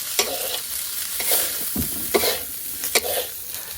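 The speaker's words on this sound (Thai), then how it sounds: "แต่ผัดผัดผัดให้มันเข้ากัน" Food is stir-fried in a hot pan for a Thai dish, the sizzle running throughout while a spatula scrapes and tosses in a loose rhythm with several distinct clanks, close and without talking.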